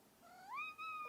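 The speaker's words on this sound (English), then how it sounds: "my cat's being annoying, and he wants attention" A pet cat lets out one drawn-out, rising meow for attention, close and clear in a quiet room, followed by a short softer call.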